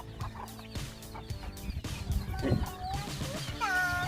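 Several free-range village chickens cluck and squawk nearby in short, irregular bursts, with a few sharper calls near the end.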